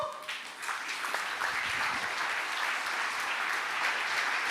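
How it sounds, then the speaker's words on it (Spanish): A church congregation breaks into sustained applause, a dense, steady wash of many hands clapping together for several seconds without speech. "Si es para el Señor, déselo fuerte ese aplauso al Señor"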